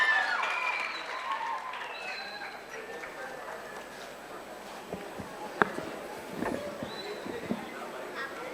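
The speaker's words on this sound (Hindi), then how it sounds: "With a thunderous round of applause," An audience at a foundation's tenth anniversary event applauds to welcome a speaker on stage, dense clapping that starts loud and gradually thins out, with a few sharp claps and some talk near the end.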